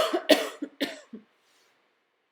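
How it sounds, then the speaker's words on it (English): A person coughs several times in quick, harsh bursts, close by, then falls silent. "sorry, I cannot shake this cough all of a sudden."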